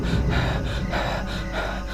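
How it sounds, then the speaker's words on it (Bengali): A man panting heavily after running to a train platform at night, rapid rhythmic breaths of about five or six audible puffs, close and breathy with a low rumbling background. "আপনি এত হাঁপাচ্ছেন কেন?"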